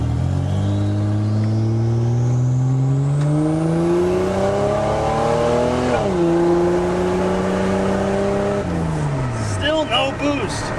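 A Buick Grand National engine revs hard while brake boosting, its loud droning pitch climbing steadily, dipping briefly, then rising again before dropping off, heard from close by.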